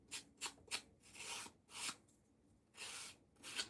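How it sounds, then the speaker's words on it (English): A handheld sanding tool scrubbing the edge of a paper card, heard as faint, close rasping strokes in short bursts and a few longer rubs, quiet and with no voices. "I'm gonna sand this edge up a little bit."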